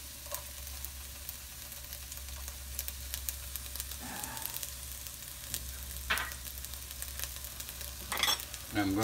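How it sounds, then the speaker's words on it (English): Garlic and onions sauté in a pan for chicken adobo, giving a soft, steady sizzle with a low hum beneath it, broken by a few scrapes and clinks of a utensil, especially toward the end; close but quiet, with no speech. "I'm going to saute them for a while and get them nice, get everything nice and brown."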